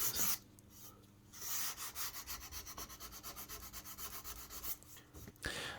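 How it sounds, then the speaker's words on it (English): Close, steady back-and-forth rubbing of sandpaper on a wooden guitar fretboard, many quick rhythmic strokes in a continuous run with a brief pause near the start. "then of course sanding paper to finish it all off"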